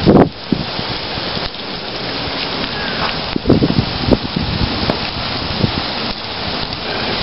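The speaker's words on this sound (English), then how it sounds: "there's sleet falling on the ground" Sleet falling on the ground outdoors on a winter morning makes a steady, dense hiss with scattered soft patters and a few louder taps, continuing evenly throughout with no voices.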